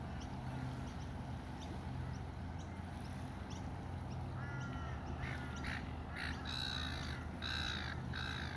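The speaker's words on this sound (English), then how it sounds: "The snakebirds and the seagulls." Seagulls call at a morning gathering of gulls and snakebirds. Faint, distant cries start midway and come in clusters of short calls over a constant background hum.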